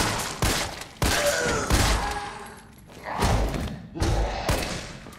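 Gunfire in Resident Evil 3 Remake, several loud heavy shots with thudding impacts at irregular intervals, each followed by a short rumbling decay.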